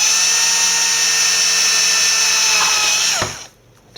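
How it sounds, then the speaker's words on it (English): A small pilot drill boring holes while fans are fitted to a Dell Inspiron One 2320 all-in-one computer: a steady high-pitched motor whine for about three seconds, then spinning down and stopping, leaving near silence. "use a small pilot drill to actually drill the holes"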